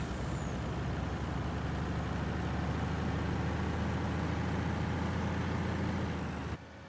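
A Kenworth T880 truck in a truck simulator game drives on the road, a steady loud engine and rolling drone throughout with a brief hiss, cutting off abruptly near the end.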